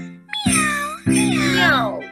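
A human voice imitates a cat's meow twice, each call drawn out and rising then falling, loud and close, with no other sounds.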